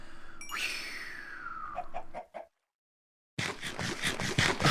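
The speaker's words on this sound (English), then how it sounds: "Oh god, it's chicken jockey." Chicken jockey mob from the Minecraft video game clucking and squawking close by, a rising then falling cry followed by short scratchy clucks, a brief silence, then a dense burst of noisy game sound.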